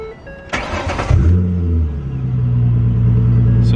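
A V6 Ford Mustang with a custom Y-pipe exhaust cranks briefly with a whirring starter, then catches and settles into a deep, loud, steady idle rumble close by.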